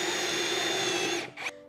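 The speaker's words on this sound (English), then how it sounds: "I'm drilling 3/4-inch pocket holes into the short ends." A power drill bores 3/4-inch pocket holes into the short ends of wooden door frame pieces, a steady loud whine for over a second before it winds down and stops with a brief trailing whir.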